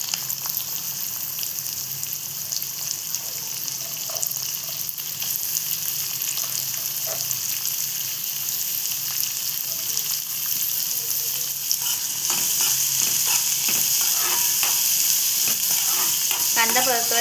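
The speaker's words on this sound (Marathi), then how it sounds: "कांदा परतवायचा आहे की नाही, नरम करायचं, जास्त नाही." Onion sautés in a pan with a continuous close sizzle and crackle, stirring scrapes growing busier toward the end, no speech.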